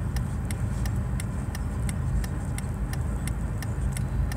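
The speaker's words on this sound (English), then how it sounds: "There's still a ton of cars coming and one bus over there." Steady road traffic with cars rolling past, a continuous broadband rumble of engines and tires at moderate level, with faint regular ticking like a turn signal over it.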